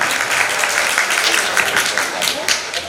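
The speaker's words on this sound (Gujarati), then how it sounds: "એકવાર નરોત્તમભાઈને જોરદાર તાળીઓથી વધાવો" An audience at a celebration in Junagadh gives steady, dense applause to welcome Narottambhai, a loud close wash of clapping lasting throughout.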